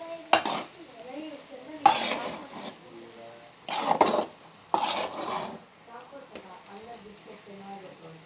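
A spoon scrapes and presses tomato rice around a pot in several loud, rough bursts, with a voice talking softly in the gaps between the strokes.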